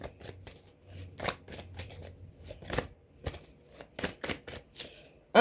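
A deck of playing cards shuffled by hand at a card table, crisp riffling bursts and snaps repeating in an uneven rhythm, close and fairly quiet with no talking.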